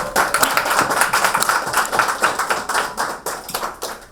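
Audience at an athletics invitational media day in Nassau claps for a group of women athletes, a steady flurry of hand claps, close and fairly dense, with no talk over it.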